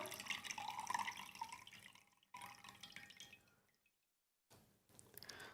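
Rinse water draining off washed rice, wet trickling and dripping in bursts separated by brief silent gaps, close and fairly quiet with no talk.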